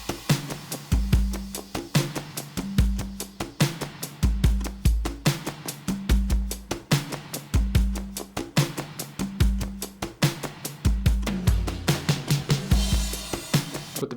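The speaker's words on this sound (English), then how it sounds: "So the kit exclusively sounds like this." A drum kit plays alone in an indie-pop song, with a steady beat of punchy kicks, snare hits and bright cymbals or hi-hats ringing throughout, close and loud with no other instruments.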